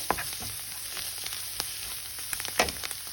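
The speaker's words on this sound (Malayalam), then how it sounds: "ഇതിനകത്തേക്ക് ഞാൻ ഒരു ടീസ്പൂൺ കുരുമുളക് പൊടിയും കൂടി ഇട്ട് കൊടുക്കുവാണ് നല്ലപോലെ ഒന്ന് മിക്സ് ചെയ്യാം" Potato snack mixture with ground pepper stirred in a pan, a soft steady sizzle under scattered scraping clicks of the spoon, close and fairly quiet with no talking.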